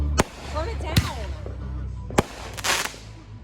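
Backyard fireworks pop in a few sharp, separate bangs, moderately close, under music and people chatting in the background.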